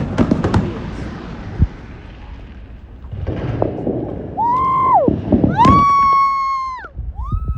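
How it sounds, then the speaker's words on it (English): New Year fireworks going off: a cluster of sharp pops and booms, then a quieter spell and more scattered bangs, followed by long, steady whistling tones that rise and hold before cutting off. "I put up a firework for you"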